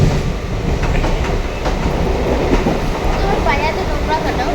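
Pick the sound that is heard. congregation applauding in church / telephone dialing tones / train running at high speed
train running at high speed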